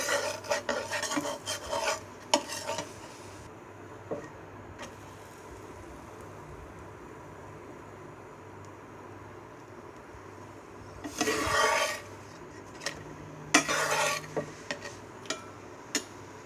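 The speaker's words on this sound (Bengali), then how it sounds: "পরিমাণ মতো মিশ্রণ এটার মধ্যে দিয়ে দিব। এবার ভালোভাবে ঘুরিয়ে নিব।" Patishapta pitha batter stirred in a pan, with clustered scraping and clinking bursts at the start and again near the end, separated by a quiet stretch of low background.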